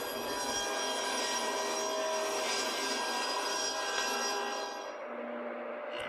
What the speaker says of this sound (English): Carefully measure for width, and then do your rip cuts